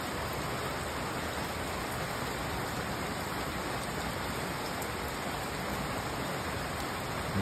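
Heavy rain pours steadily on a rural province home in December, a dense, even hiss with no breaks and no voices.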